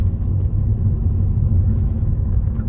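A Volvo car driving with a gearbox fault gives a low, rumbling judder, a close, uneven vibrating drone heard inside the cabin, steady and fairly quiet.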